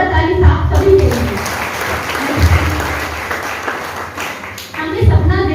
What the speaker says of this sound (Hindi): जोरदार ताली साफ सभी देंगे।